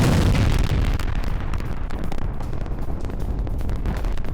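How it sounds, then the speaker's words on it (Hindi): A gas pipeline explosion in Iran roars in news footage, a loud, sustained rumbling blast with crackling bursts and no speech over it. "इजराइल से टेंशन के बीच ईरानी पाइपलाइन में विस्फोट हुआ है"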